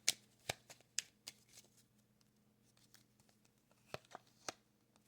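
Piatnik playing cards being shuffled by hand nearby: soft riffles and crisp flicks in irregular bursts over a faint steady hum, quiet, with no talking.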